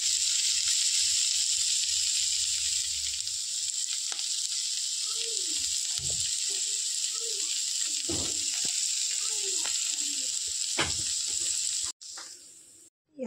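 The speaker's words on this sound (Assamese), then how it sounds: "পনীৰখিনি দি দিছোঁ। মই ভাজি লওঁ।" Small cubes of paneer seasoned with salt and colour frying in a pan, a loud continuous sizzle close up, with a few clinks of stirring before it cuts off near the end.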